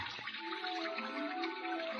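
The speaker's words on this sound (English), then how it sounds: "my fountain. Costs a little to run because it uses the same water over and over again" Water from a radio-drama fountain runs steadily in a continuous rushing splash with faint tonal ringing, close and unbroken throughout.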